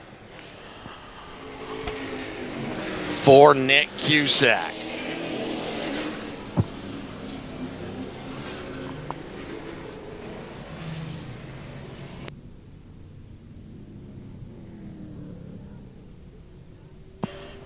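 Pro stock race cars at Star Speedway roar past loudly in a short burst of rising and falling engine noise, then fade to a distant rumble while a public-address announcer talks over the track.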